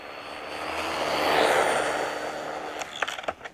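A Traxxas Bandit VXL RC car's electric motor at full throttle, a loud rising high-pitched whine that swells past and fades, ending in a few sharp clicks and scrapes nearby.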